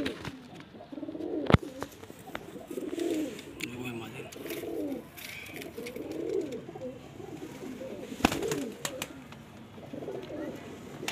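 Pigeons coo in soft repeated bursts, close by, with someone talking in Hindi intermittently over them and a few sharp knocks.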